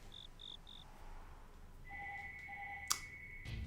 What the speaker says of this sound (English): Had a feeling my phone would be ringing at some point.